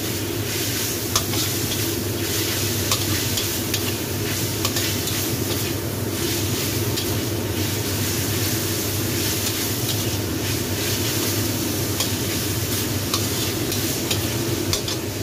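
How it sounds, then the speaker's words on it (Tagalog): Onions fry in a pan with a loud, continuous sizzle while a utensil stirs them in steady, scraping strokes. The sound is close and unbroken, with no voices. "Mix ko na yung sibuyas."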